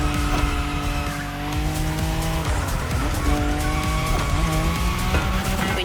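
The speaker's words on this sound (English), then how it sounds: "When you manage to drift this bulky bodywork, it's just magic." A bulky car drifts in The Crew Motorfest video game, its engine roaring steadily while the tires squeal and skid continuously, loud and close throughout.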